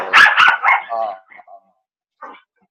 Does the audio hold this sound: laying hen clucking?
no